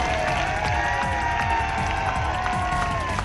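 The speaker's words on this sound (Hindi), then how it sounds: "फिर भी ताली ढीले बजा रहे हो।" A Ramlila festival audience claps and cheers during a speech, a busy outdoor crowd clatter with rhythmic hand claps and scattered shouts, held steady and fairly loud throughout.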